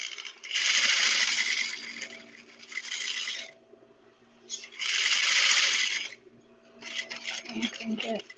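A sewing machine, partly hand-cranked, stitches over thick tote bag straps in three sustained bursts of rasping mechanical clatter, close by, separated by brief quieter pauses.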